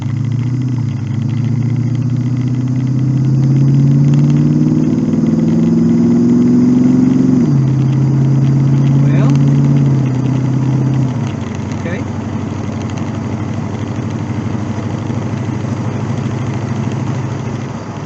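A Citroën C4 car engine runs steadily on an easy test drive, a loud mid-low drone whose pitch rises and drops with gear changes, holding a constant level throughout with no talk.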